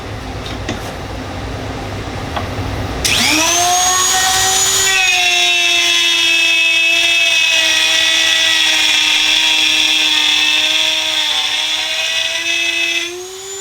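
A Dremel rotary tool in a plunge router attachment cutting a dado into wood, a sharp high-pitched whine that spins up after a quiet start, holds steady and loud while cutting, then cuts off at the end.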